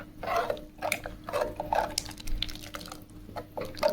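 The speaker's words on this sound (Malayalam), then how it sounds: "നല്ല പോലെ ഒന്ന് ഇളക്കി സെറ്റാക്കി എടുക്കുക." A ladle stirs rasam, a thin Kerala-style tamarind soup, in a pot, giving soft liquid sloshes and light metal clinks in an irregular rhythm, close and fairly quiet with a low steady hum underneath.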